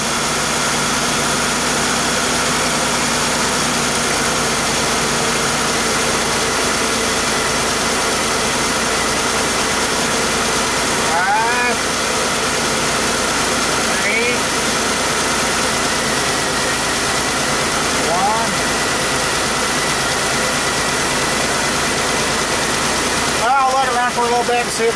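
2000 Pontiac Bonneville engine idling with a misfire, a steady close engine drone throughout, joined by occasional brief chirps and a few faint voices near the end.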